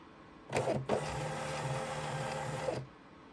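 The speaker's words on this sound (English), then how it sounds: "let's see if I can get this to print on the correct size" A Munbyn thermal label printer runs a shipping label through, starting with a short whirring burst, pausing briefly, then feeding steadily for about two seconds before stopping. The printer is close and fairly quiet.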